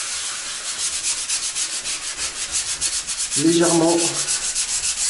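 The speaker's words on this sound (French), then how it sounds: "24 heures plus tard, on revient, on va poncer" Hand sanding of a cured concrete coating applied over a tiled wall, heard as steady rhythmic rubbing strokes close by, with a brief spoken word partway through.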